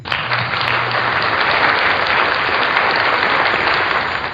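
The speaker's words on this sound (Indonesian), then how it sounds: "Tepuk tangan dulu untuk kita semua." A classroom of students claps together at the end of a lesson, a loud, steady wash of applause that holds at full strength for a few seconds before easing off.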